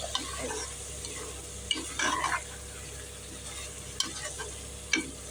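Chicken frying in a pan for chicken biryani while being stirred: a low, constant sizzle with occasional scraping clinks of a spoon against the pan, fairly quiet and without talk.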